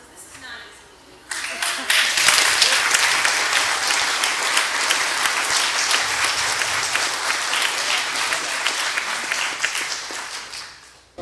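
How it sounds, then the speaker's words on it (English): A forum audience bursts into applause for a candidate, a dense, sustained clapping that starts abruptly, holds strong for several seconds and fades out at the end. "Give him a big round of applause, because this is not easy."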